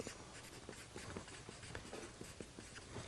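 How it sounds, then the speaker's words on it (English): A word is written out by hand, with soft, scratchy strokes that come in short, quiet bursts with no talk over them. "let me write this word out."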